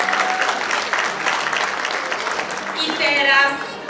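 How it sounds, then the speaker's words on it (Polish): Audience applause for children's folk dancers in Krakow costume at a harvest festival in Sucha Górna, a steady wash of clapping across the whole stretch that swells near the end. "prosimy o oklaski jeszcze raz dla naszych krakowiaków i krakowianek"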